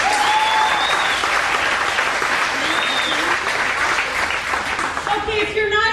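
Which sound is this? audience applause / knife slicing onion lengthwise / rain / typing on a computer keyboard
audience applause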